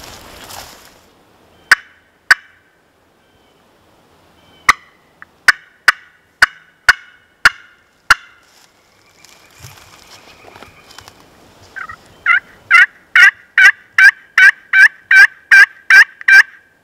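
Hunting in windy woods, a series of sharp clicks and taps comes first, then a wild turkey gobbles in a long rapid run of loud, evenly spaced bursts.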